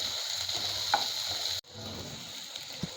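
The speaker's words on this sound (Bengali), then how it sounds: "আলুটা ভাজা হওয়ার জন্যে, পেঁয়াজ রসুনটা ভালোভাবে ভাজা হওয়ার জন্যে আমি একটু গ্যাসের আগুনটা বাড়িয়ে দিয়েছি।" Potato, onion and garlic fry in a pan over a raised gas flame, giving a steady close sizzle with a brief cut, a few faint clinks and scrapes, and no talking.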